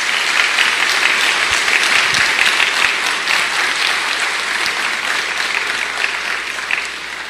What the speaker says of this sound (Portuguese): E eu gostaria que você aplaudisse esses dois grandes homens